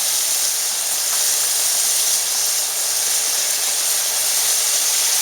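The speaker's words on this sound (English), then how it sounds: "our onions are starting to caramelize" Onions caramelizing in a pan give a loud, continuous, close hiss and sizzle that stays steady from start to finish, with no talking.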